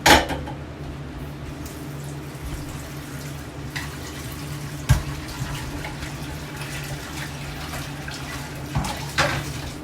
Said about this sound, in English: So first, the pan needs to be scrubbed out.